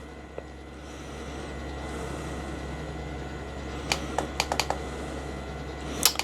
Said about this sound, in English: let me just go into notes and then just start typing something